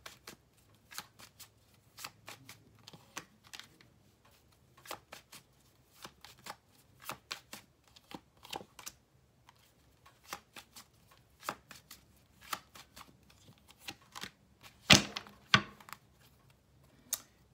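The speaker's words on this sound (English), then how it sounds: "Let me just lay out all the cards." Tarot cards being handled and laid out one by one on a surface, producing a long series of crisp, close snaps and soft slaps with brief pauses, including one sharper louder burst near the end; no speech.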